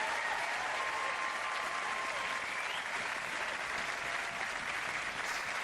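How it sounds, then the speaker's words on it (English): A studio audience claps steadily and loudly for the House Party team, a dense, unbroken wash of applause from a crowd with no voices standing out. "I wonder if you'd do me the favour of saluting the House Party team and applauding them all."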